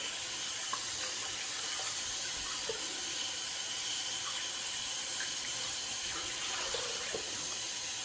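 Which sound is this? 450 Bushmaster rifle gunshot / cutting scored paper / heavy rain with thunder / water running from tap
water running from tap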